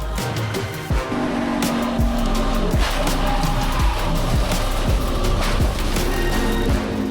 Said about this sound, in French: Victime d'un bris mécanique, Dexter Stacey ne peut éviter Jason Hathaway.